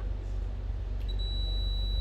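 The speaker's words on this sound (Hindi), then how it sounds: "बीप की साउंड आएगी।" A steady multimeter continuity beep sounds while ignition pins on a BMW 3 Series are probed, a single sustained tone that starts partway through and holds to the end over a low background hum.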